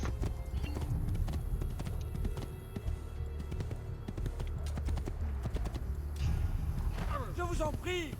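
Horse hooves gallop in a steady clip-clop rhythm in the video game Assassin's Creed II, set against constant game ambience, with voices speaking over it.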